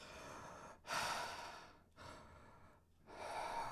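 Slow, deliberate breaths drawn in and let out during a diaphragm breathing demonstration, three long airy inhalations separated by brief pauses, close and fairly loud with no talking.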